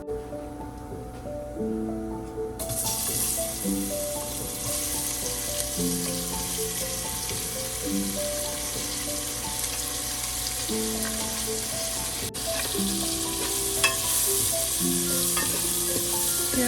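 Onions frying with cumin in a pan for Punjabi-style aloo pyaz kadhi, a steady close sizzle that jumps sharply louder early on and then crackles on evenly, with faint intermittent stirring.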